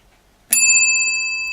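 German W28 telephone bell gongs struck once by a hammer, giving a single sharp metallic ring that sustains with bright, clear tones and slowly fades, heard close and alone.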